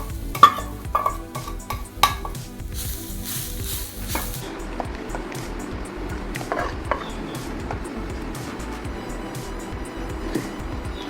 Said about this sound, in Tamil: தேங்காவை இதில் போட்டு நல்லா ரோஸ்ட் பண்ணிக்குவோம்.